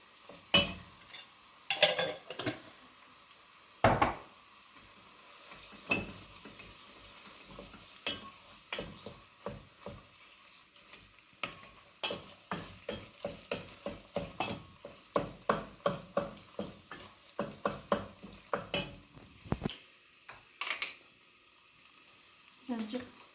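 Fresh onions cook in a pan with a bit of tomato paste, the stirring heard as a quick series of scrapes and clinks over a faint sizzle, with occasional speech in between.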